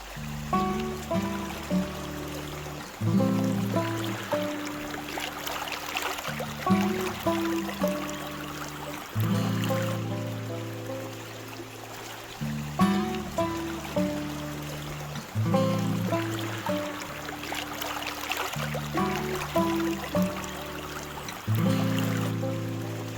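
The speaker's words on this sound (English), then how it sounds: "So let's go and sluice the first bucket out from under the rock and see what it's looking like." Gravel and rock dug from under a boulder, washed by the bucketful through a sluice: steady rushing, trickling water runs throughout, mixed with a droning tonal hum.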